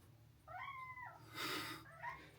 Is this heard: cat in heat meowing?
yes